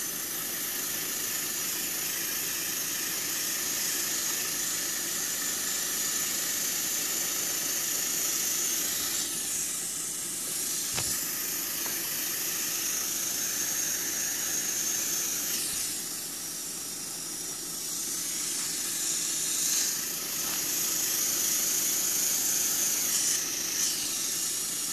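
An airbrush spray nozzle sprays Poly-S model paint onto a model railroad flatcar, a steady close hiss running throughout with brief dips and sputters as the nozzle clogs.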